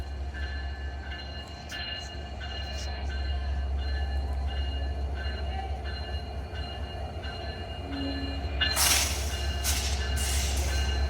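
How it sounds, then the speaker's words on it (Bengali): Locomotive 66-5 approaches with a low steady engine drone and evenly spaced metallic bell strikes ringing repeatedly, growing a little louder, with brief hissing bursts near the end. "ট্রেনটি শান্টিং বেল বাজাতে বাজাতে আসছে"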